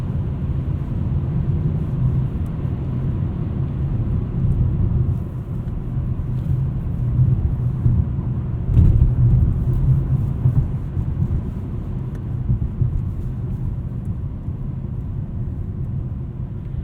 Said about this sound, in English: You get a little bit of a lower frequency over bumps from these 18-inch wheels